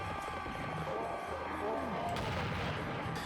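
Faint combat sounds from the 1998 PC game Expendable, muffled gunfire and booming explosions, play at low volume behind a steady background, with a voice talking over them.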